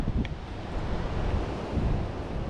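Strong wind blows by a river, a loud steady rush buffeting the microphone, with no voices.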